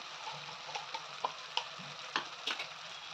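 Ground peanut, coconut, sesame, ginger and garlic masala sautés in a pan with a soft sizzle and a few spoon clicks and scrapes, quiet and close, with no talking.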